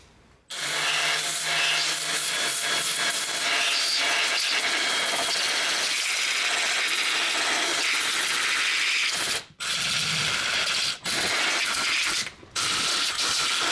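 An angle grinder works on metal on an imported van being restored, a loud continuous harsh whine that runs steadily before cutting out briefly several times near the end.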